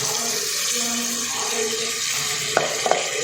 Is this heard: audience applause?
no